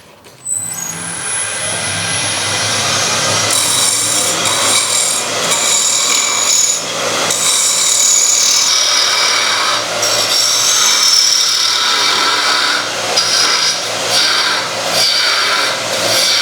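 A threading jig fitted with a left-hand spindle runs in reverse, giving a loud, continuous grinding, rasping whir that holds steady for about sixteen seconds with shifting bursts of scraping.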